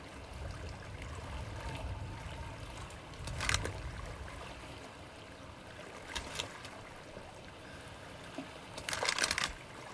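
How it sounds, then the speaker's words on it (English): A character wading and splashing through water in Resident Evil Village, with a continuous low sloshing wash and a few sharper splashes standing out at intervals, moderately close. "that's me splashing"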